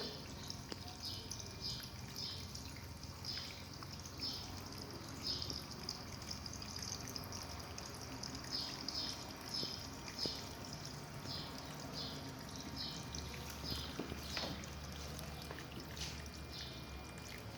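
Soft, continuous trickling water from a decorative tabletop waterfall babbles quietly with light splashing, steady and faint throughout, with no one speaking.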